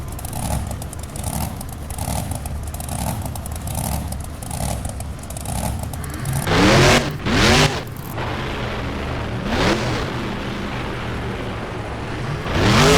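Monster truck in BeamNG during a Monster Jam Hot Wheels freestyle run, with a steady engine drone, then loud revving bursts and clattering thumps as it hits ramps and lands, alone with no talk.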